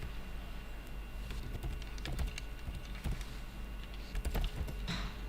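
Keys clack irregularly as C# source code is typed on a computer keyboard, light scattered taps and short bursts over a steady low hum, no voices.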